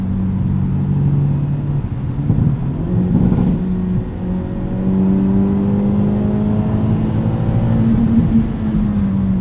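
A 2022 Hyundai Elantra N with a manual gearbox revs hard on track, its engine note climbing and holding in steady harmonic sweeps, loud and close from inside the cabin throughout.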